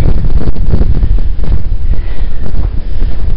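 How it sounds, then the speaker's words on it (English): Strong wind at a lake buffets the microphone with a loud, continuous roar and rumble, gusting unevenly throughout with no voices. "The wind is, when it kicks up, it's pretty cold."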